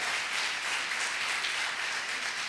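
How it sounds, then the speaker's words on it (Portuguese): A church congregation applauds with steady, even clapping throughout, a continuous moderate wash of many hands in a large room with no break. "se vai aplaudir, então aplaude bem forte a presença"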